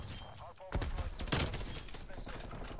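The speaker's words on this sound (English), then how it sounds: "Are they trying to shotgun somebody from that range?" Gunfire in Call of Duty Black Ops Cold War multiplayer, loud close game shots with a sharp blast near the start and another burst in the middle, over a dense layer of game sound and some speech.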